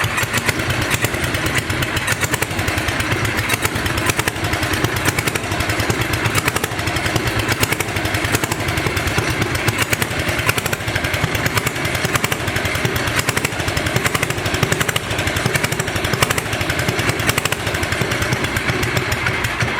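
A free six-wheeler ATV's engine runs steadily throughout, a loud rapid buzzing chatter with a rough, uneven edge from a carburetor needing cleaning.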